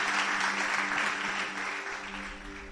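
A church congregation applauds in worship, a steady, dense round of clapping with faint sustained musical tones underneath, easing slightly toward the end.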